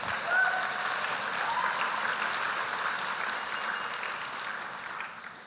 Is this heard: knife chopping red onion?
no